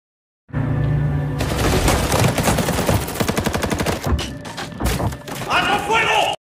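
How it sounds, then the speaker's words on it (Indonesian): Loud, sustained bursts of automatic gunfire with rapid rattling shots and heavy booms, dense and chaotic, as in an action movie shootout. "Carlos dan pasukannya pun langsung melepaskan tembakan secara membabi buta."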